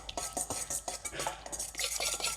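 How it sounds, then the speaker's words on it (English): Sesame glaze ingredients being stirred together in a bowl for salmon, giving a steady run of quick scraping and clinking strokes of a utensil against the dish, close and fairly quiet, with no talking. "I'm just mixing these ingredients together and then I'm going to put the fish in it"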